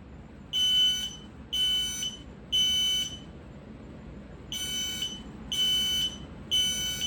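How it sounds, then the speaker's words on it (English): X-Sense SC07-W Link+ combination smoke and CO alarm sounding its shrill electronic pattern: three loud piercing beeps, a pause, then three more, close by with steady background hiss. "now it's only sounding the initiating alarm."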